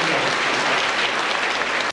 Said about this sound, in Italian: Stanno qui le insegnanti a cui va il nostro applauso